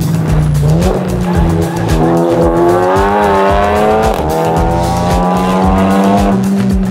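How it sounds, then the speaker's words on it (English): BMW M3 drift car sliding on tarmac at a rallysprint, engine holding high revs while tires squeal loudly and continuously for several seconds, close and dominant with no talking. "occasionally we get a full spec drift car"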